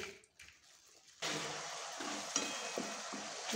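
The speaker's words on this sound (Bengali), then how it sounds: "ভাজা প্রায় হয়ে আসছে, এবার এটা আমি ভাতের মধ্যে মিশিয়ে দেবো।" Steady frying sizzle in a pan, likely caramelized makhana nearly done before mixing into rice, starting abruptly after a quiet first second and continuing loud with light stirring clicks.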